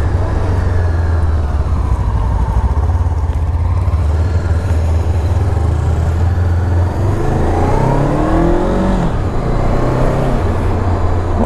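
A Honda Rebel 500 parallel-twin motorcycle engine runs loud and close, a low steady rumble that rises in pitch as it revs up near the end, with wind and road noise mixed in.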